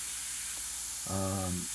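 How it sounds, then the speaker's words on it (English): Paint sprayed onto a portrait painting with transparent paints gives a soft airy hiss, broken by a short, brighter burst of spray near the end; quiet and close, with no voices. "I don't care if I spray over my highlight."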